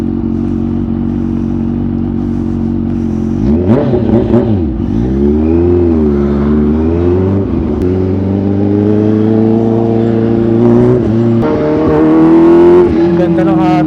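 A supercharged 2023 Kawasaki H2 Carbon motorcycle engine idling in traffic, then revving and pulling through rising and falling gear tones, loud and close with a persistent mechanical whir.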